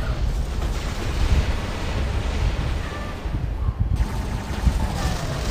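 Robot weapons fire continuously in the War Robots video game, a dense, loud rumble of blasts and bursts layered under game effects with no clear pauses.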